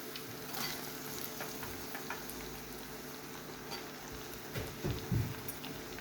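Onions frying in hot oil with cumin and garlic paste, a soft continuous sizzle with occasional stirring clinks and pops, fairly quiet and steady.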